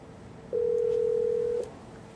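A Polycom IP conference phone emits a single steady electronic tone lasting about a second after a dial key is pressed, clean and alone over a faint background hiss.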